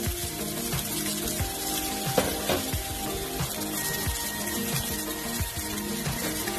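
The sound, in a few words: Cajun salmon pan-frying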